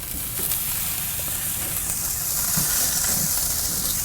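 Pork chops, just flipped, sizzle on the grate of a Kamado Joe ceramic grill, giving a steady, broad hiss that holds at an even level throughout with a faint low rumble underneath.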